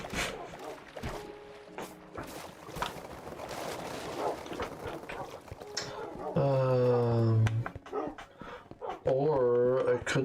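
Dogs in a video game barking and whimpering, with short yips and a long whining cry near the end, mixed with game sounds and a person talking.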